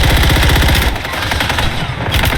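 Rapid video game gunfire rattles in loud, dense bursts, a fast machine-gun stutter followed by a slightly thinner volley.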